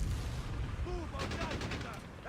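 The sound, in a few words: mortar hit on a scout in the video game Company of Heroes 3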